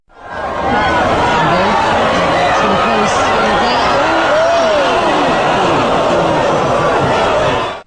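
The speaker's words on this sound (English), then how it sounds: "Here's a clip of the crowd reacting to her run." Large crowd at a women's race finish, a dense continuous roar of chatter, shouts and cheering voices, loud and sustained throughout.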